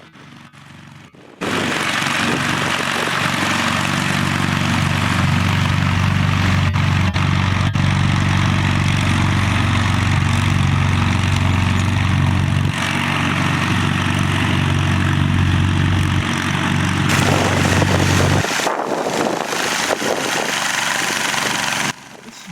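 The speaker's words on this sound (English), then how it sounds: "This is Bo Newhouse in Twin Falls, Idaho, on his Gibson lawn tractor" Steady, loud drone of a Gibson lawn tractor engine running at a spring plow day event, starting abruptly and holding an even rumble for about twenty seconds before cutting off.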